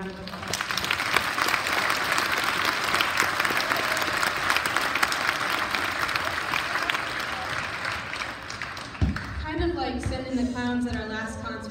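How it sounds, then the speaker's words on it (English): An audience applauds at an 8th grade school band concert, with sustained clapping for most of the stretch that cuts off sharply near the end, followed by a few voices and a short tonal sound. "a big round of applause"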